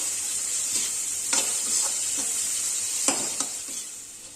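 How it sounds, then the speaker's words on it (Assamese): Tomato with Kashmiri chili powder and spices fries in a pan for egg Maggi, making a steady bright sizzle with occasional stirring scrapes, and no talking. "এতিয়া আমি এইখিনি ভাজি ল'ম, বিলাহীটো সম্পূৰ্ণ গলি নোযোৱালৈকে ভাজি ল'ম।"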